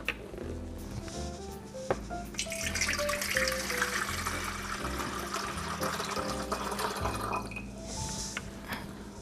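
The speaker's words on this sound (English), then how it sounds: "gonna pour some water in the tea kettle" Water pouring from a tap into a tea kettle in a home kitchen, a steady filling rush that swells and brightens as the vessel fills, with faint knocks and a low background hum running underneath.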